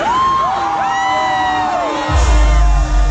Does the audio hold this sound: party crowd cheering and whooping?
yes